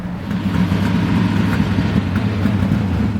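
A race car engine at a Grays Harbor Raceway dirt track runs close and loud, a steady rough rumbling idle with a throbbing low pulse that holds for about three seconds.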